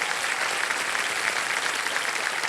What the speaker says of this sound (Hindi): उनको हम तालियों के साथ स्वागत करते हैं एक बार फिर आपका